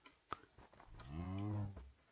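A Minecraft cow gives one drawn-out moo, low and fairly quiet, preceded by a few soft clicks and taps.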